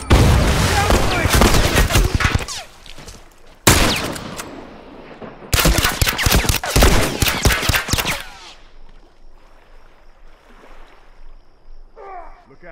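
Rifle gunfire rings out in a shooter video game, loud bursts of rapid shots in several clusters over the first eight seconds, then fading to quieter ambient game sound.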